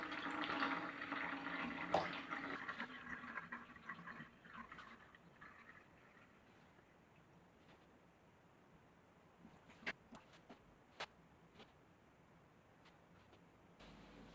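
Water pours into and trickles through a Brita Maxtra jug filter, a louder splashing fill at first that fades to a faint steady trickle with occasional drips and clicks.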